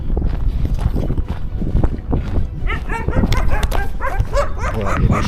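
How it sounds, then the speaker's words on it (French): Several dogs bark in quick, overlapping bursts amid a busy outdoor din, with clattering sounds underneath. "Voilà, il y a des chiens aussi."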